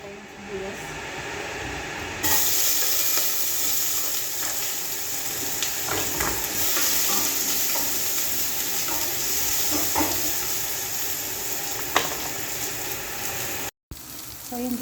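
Onions sauté in a pan for soup with a continuous soft sizzle and hiss that comes in after a quiet start and carries on steadily, with a few faint clicks.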